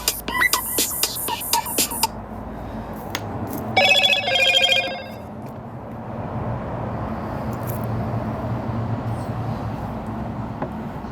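A mobile phone rings with an incoming spam call, a short burst of bright electronic ringing that rises above background clicks and a low, steady rumble.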